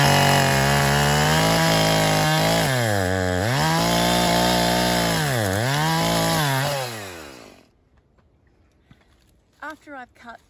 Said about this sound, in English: we can chainsaw it close to the base